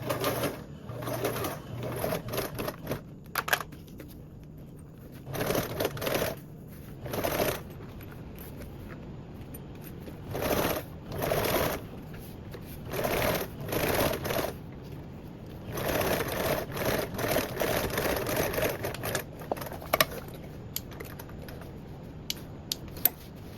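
A sewing machine top stitches thick layers of a bag in several short, loud runs of rapid stitching, split by pauses with light handling sounds.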